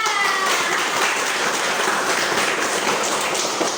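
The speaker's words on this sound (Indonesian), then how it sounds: "betul, tepuk tangan" Children clapping their hands during a catechism lesson, a close, continuous patter of many small claps at steady loudness with no talk over it.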